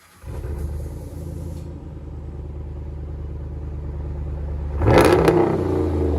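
A 2017 RAM 1500 pickup with a 5.7L HEMI V8 and a dual DYNOMAX Race Bullets exhaust idles with a deep, steady rumble, then blips the throttle near the end for a louder rev with some crackle.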